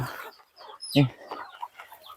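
Chickens cluck near a rural Thai home, a few short clucks and one louder squawk in a quiet yard, with faint background voices.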